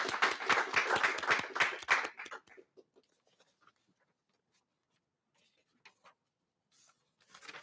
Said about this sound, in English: Let's all give a round of applause from our couches for these students.